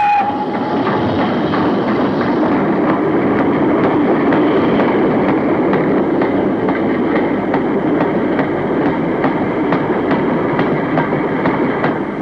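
British Railways 9F steam locomotive 92094, Swindon-built in 1957, hauls a train past: a continuous loud rumble of rolling stock with steady rhythmic clickety-clack of wheels over rail joints and a brief high whistle-like tone at the start.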